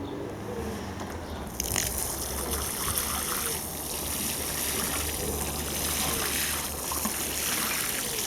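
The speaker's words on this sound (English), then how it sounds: "give these a good watering" Water from a watering can splashes steadily onto allotment soil before seeds are sown, a continuous close trickling hiss that starts abruptly and runs unbroken to the end with no talk.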